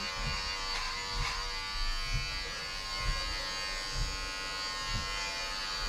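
Electric hair clippers buzz steadily and close by while someone cuts their own hair at home, the motor's whine holding constant with slight dips as the blades move through the hair.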